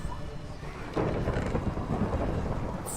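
A thunderstorm with steady rain in the game Sky Factory 3 roars continuously, with a louder rumbling swell of thunder about a third of the way in and no voices.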